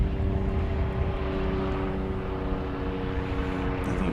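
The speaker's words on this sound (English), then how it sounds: "This is a JSX Embraer 145." A JSX Embraer 145 regional jet at Dallas Love Field at night gives off a steady, continuous engine drone with a tonal whine, heard from a moderate distance and holding an even loudness throughout, with no talk.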